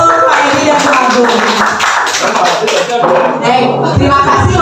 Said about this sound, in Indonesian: Tepuk tangan untuk Pak Edi dan Pak Agung.